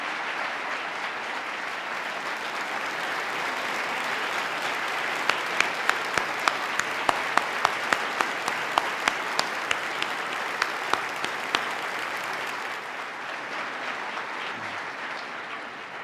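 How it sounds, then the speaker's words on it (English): Audience at the 2018 State of the State Address gives sustained applause for honored guests, a broad even wash of clapping with a few sharper individual claps, fading slightly near the end. "we applaud their heroism"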